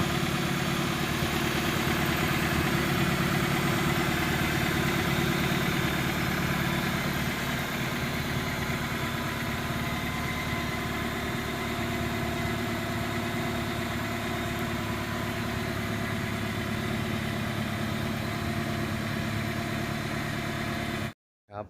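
A 2001 Honda City Type Z with a manual gearbox and VTEC engine idles steadily and close by, a continuous even engine hum with no voices over it, cutting off abruptly at the very end.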